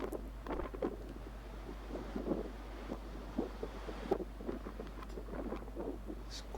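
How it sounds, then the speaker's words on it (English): Strong gale-force wind buffeting the microphone on an exposed clifftop at St Catherine's Oratory, a steady low rumble with irregular gusty bursts throughout and no voices. "It's quite strong winds"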